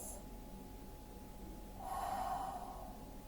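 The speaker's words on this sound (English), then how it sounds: "Inhaling and exhaling." During a Pilates stretch, a single deep breath is drawn in and let out quietly, with a soft airy rush that swells briefly near the end, close and faint.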